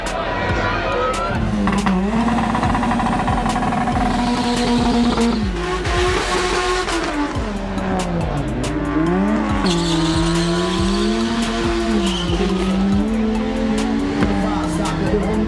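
A Honda drag racing car accelerates hard at a drag strip elimination event, its loud engine note rising and falling through gear changes, with a crowd and announcer talking over it throughout.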